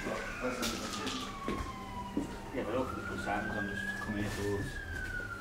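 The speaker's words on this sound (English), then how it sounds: "There is a police car." A police car siren wails in slow rising and falling sweeps at a distance, heard beneath people talking nearby outside an abandoned restaurant in the UK.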